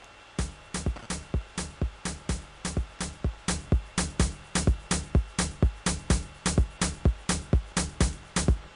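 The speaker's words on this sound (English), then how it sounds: "let me just play the drums for you guys so you can hear what the drums sound like" A programmed electronic drum pattern from FL Studio plays alone, with a steady run of sharp, loud kick and percussion hits in a fast, even rhythm, with no talking over it.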